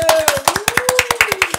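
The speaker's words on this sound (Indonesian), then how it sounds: "Tepuk tangan dulu" Brief applause: a few people clap in quick, steady rhythm close by, sharp and fairly loud, with a faint voice humming underneath.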